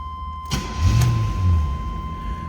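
A 1981 Chevrolet Camaro Berlinetta with a 305 V8 cranks briefly and catches, settling into a steady, close, low idle rumble with no talking.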